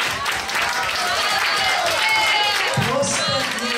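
Recital club audience applauding a singer, dense clapping heard under overlapping voices and background chatter, loud and close throughout.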